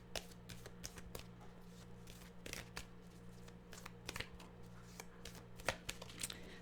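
Tarot cards are shuffled by hand in a quiet room, with a steady run of soft riffling and snapping clicks, close and moderately loud, over a low background hum.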